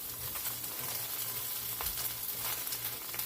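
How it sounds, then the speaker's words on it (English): Corned beef hash sizzles steadily in a hot pan, a dense crackling fry heard up close, with occasional scraping and stirring. "Now once you hear that sizzle"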